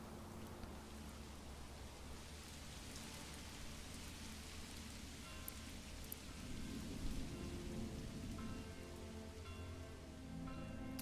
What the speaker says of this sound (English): Here come the rains.